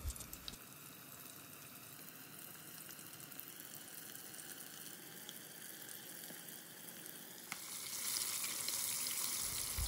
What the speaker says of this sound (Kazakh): Енді тауық қанаттарын ішіне салып 8-9 минуттай қызарғанша қуырып аламыз